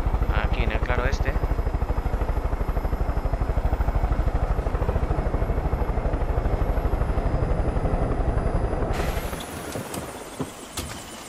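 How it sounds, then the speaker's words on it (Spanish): Helicopter landing in a clearing in Far Cry 5, a loud steady rotor thrum pulsing throughout, with brief speech early on, before the engine noise cuts off and a quieter scene takes over near the end. "¡Helicóptero va!"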